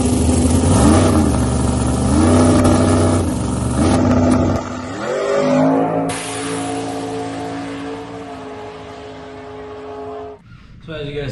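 Street race cars accelerating hard at the Hinton Street Races, loud engines rising in pitch through gear changes, with a voice talking over the engine noise.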